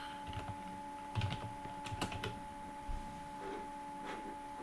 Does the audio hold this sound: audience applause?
no